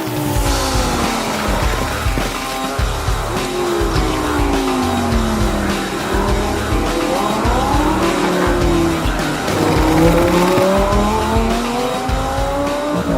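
Race cars roar steadily around a motorsport track, engines loud and continuous, with gear changes and rising and falling revs across the whole stretch and no talk.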